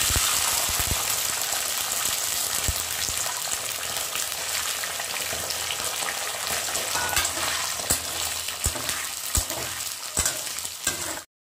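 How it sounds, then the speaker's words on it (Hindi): Whole spices with peas and potatoes fry in refined oil, giving a steady loud sizzle with scattered sharp pops and spoon clinks throughout, no talking. "तेल में हम लोग अभी खड़े मसाले को भी थोड़ा सा फ्राई कर लेंगे।"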